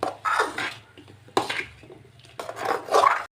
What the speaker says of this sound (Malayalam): മിക്സ് ചെയ്യാം.